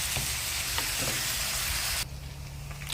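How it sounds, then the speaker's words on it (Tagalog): Bacon fries in a pan as its fat renders out, making a loud, dense sizzle that drops sharply to a quieter crackle about two-thirds through, with no talking. "palabasin muna ang mantika ng bacon para yan na ang panggisa natin"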